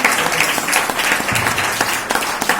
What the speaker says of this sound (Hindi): या एक बार फिर जोरदार ताली बजा दीजिए यीशु के लहू के लिए